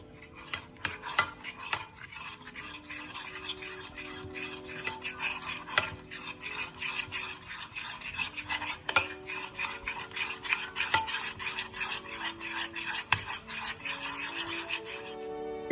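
Caramel sauce being stirred into chicken in a bowl for a ginger-sesame caramel chicken dish, with steady close scraping and rubbing strokes that repeat through the whole stretch, without talk.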